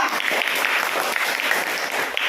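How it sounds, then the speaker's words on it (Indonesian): A room full of people claps steadily, a dense, continuous round of applause from a nearby group. "Ayo, beri tepuk tangan untuk kelompok 3."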